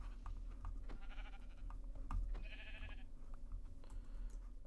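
Sheep bleating in the Minecraft video game: a couple of short, faint synthetic bleats sound over a steady low background hum with scattered clicks, no talking.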